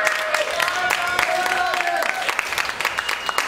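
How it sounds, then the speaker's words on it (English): Live concert crowd at The Haunt applauding the drummer, a dense patter of claps heard alongside tonal music and a voice. "Please give him a round of applause, because he's awesome."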